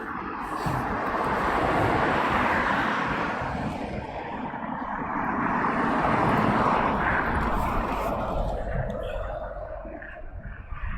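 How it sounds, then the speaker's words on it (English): A DHL cargo plane taxis out toward the runway at Heathrow, its engine noise a broad, swelling and fading roar heard at a moderate distance. "we have a DHL going over there, taxiing out to 27 right"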